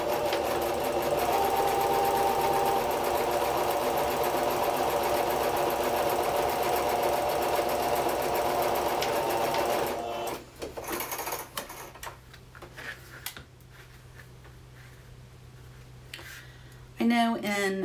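A sewing machine stitches quilt seams with a fast, steady mechanical whir for about ten seconds, then stops. Quieter handling noises and someone talking follow.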